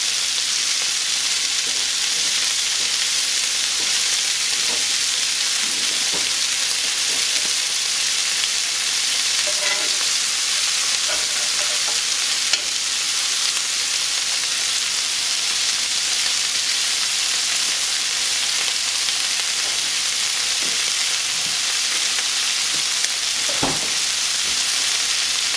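Meat and peppers charring in a hot pan for a beef or shrimp molcajete, a steady loud sizzle and crackle running throughout with occasional sharper pops, no voices.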